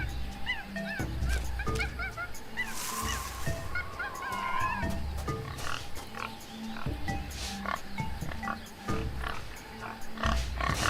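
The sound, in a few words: pigs grunting in a video game jungle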